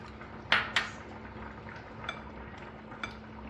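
Sugar being stirred into bun dough in a bowl, with a couple of sharp clinks of a utensil against the bowl, then softer scraping and tapping over a quiet background hum.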